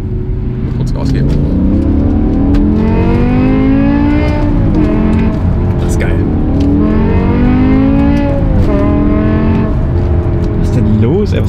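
A BMW M5 E61 Touring with its V10 engine revs hard while shifting down into second with throttle blips, a loud rising and falling harmonic engine roar filling the cabin, with people talking over it.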